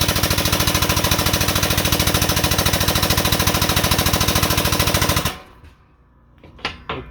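The jack on a modified Harbor Freight 20 ton shop press is raised, making a loud, rapid, evenly pulsing mechanical hammering for about five seconds. It stops abruptly, followed by a couple of faint clunks.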